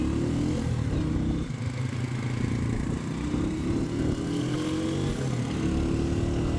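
A Honda CG 125 motorcycle rides along rural roads near the Jamuna river floodplain, its engine droning steadily and loudly throughout with wind rush and no talk.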